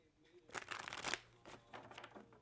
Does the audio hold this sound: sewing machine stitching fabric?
no